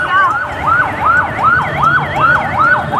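A fire engine siren wails in steady rising and falling sweeps, loud and continuous, as the truck arrives at a fire near the Mysuru Dasara lighting displays, with faint traffic rumble beneath.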